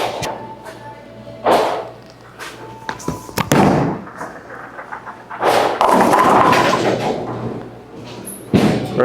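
A bowling ball thrown hard down a lane crashes into the pins with heavy thuds and clattering impacts, followed by scattered rolling knocks, all fairly close and loud across the span.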